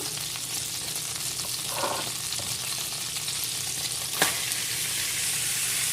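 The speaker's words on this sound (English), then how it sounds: "And saute that in the butter." Chopped seasoning sautéing in butter for a shrimp and crabmeat dressing, a constant dense sizzle with faint stirring movements and one sharp utensil tap near the end.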